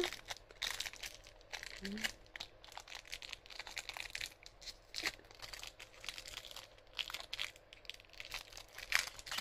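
A parcel sealed all over with tape is opened by hand, giving close bursts of crinkling, tearing and crumpling packaging in an irregular rhythm, with a voice faintly present at moments.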